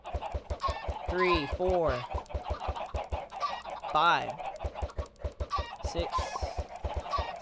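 Minecraft chickens cluck in repeated squawking bursts over a steady thumping beat, while a voice counts aloud throughout.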